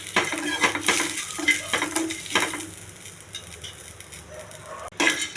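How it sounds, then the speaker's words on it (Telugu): Mustard seeds, cumin, dried red chillies and tamarind fry in hot oil for a tempering, a steady sizzle broken by repeated scrapes and clinks of a spoon against the pan. "ఇవన్నీ కొంచెం వేగనివ్వాలి"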